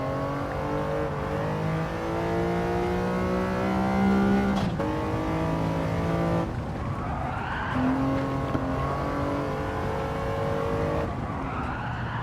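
A resto-mod car brakes and turns into a corner, its engine note falling and rising again, with a brief tire squeal in the middle, heard at steady moderate volume.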